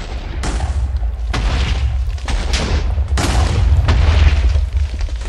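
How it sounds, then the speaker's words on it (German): TNT sticks explode one after another in a video game, giving about five heavy booms spaced roughly a second apart. Each boom has a sharp burst and a rumbling tail, loud and close. "diese explodieren und springen weiter"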